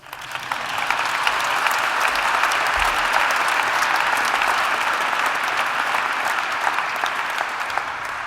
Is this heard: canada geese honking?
no